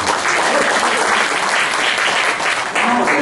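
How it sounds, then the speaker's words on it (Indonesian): A church congregation claps together in a dense, sustained wave of applause that fills the room evenly, loud and continuous with no voices standing out. "Berikan tepuk tangan terbaik kepada Tuhan."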